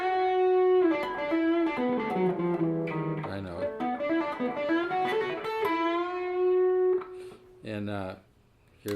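A Gibson Les Paul Special Pro electric guitar plays a sustained, lightly overdriven melodic phrase with bending notes, then a brief spoken remark cuts in near the end.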